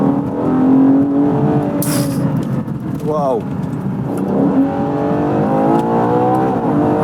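A Ferrari SUV's engine revs loudly from inside the cabin while driving, with one quick rising burst of revs; a person talks and exclaims over the steady engine roar.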